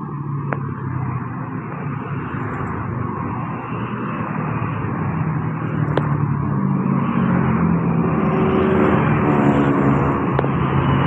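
Road traffic near a bus stop on a route toward Joyoboyo with green buses: a continuous engine rumble of passing vehicles, swelling and easing as they go by, moderately loud with no voices.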